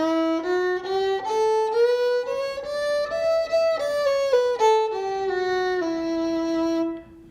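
A fiddle plays a Dorian scale in clear, separate bowed notes, climbing and then coming back down over several seconds, played solo with no voices.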